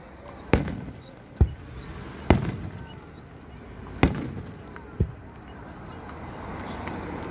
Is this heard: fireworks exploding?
yes